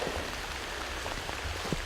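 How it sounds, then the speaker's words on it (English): Steady rain falls in a soft, continuous patter, with a few louder drops landing nearby. "It's really starting to rain"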